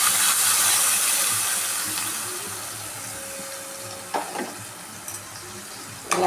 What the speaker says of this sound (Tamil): பச்சை வாசனை போகிற வரைக்கும் வதக்கிக்கலாம்.